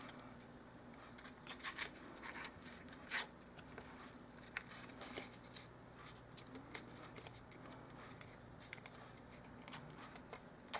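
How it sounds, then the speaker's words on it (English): A protruding piece of a dollhouse chair is being trimmed in a series of faint, close snips and scratchy cuts. They come in irregular bursts against a quiet room hum. "We are going to cut off that part that sticks out in the front."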